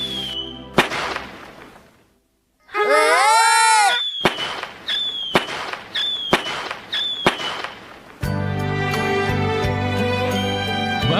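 Cartoon fireworks and firecrackers in a Shin-chan episode: single sharp bangs, a burst of rising whistles, then a run of evenly spaced pops, ending in dense continuous crackling.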